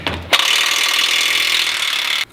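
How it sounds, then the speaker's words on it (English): A ratchet socket wrench, 21 mm, on a Jeep JK front track bar bolt gives a steady, rapid metallic clicking that runs for about two seconds at close range and then stops abruptly. "You're gonna do that with a 21mm end wrench and a 21mm socket wrench."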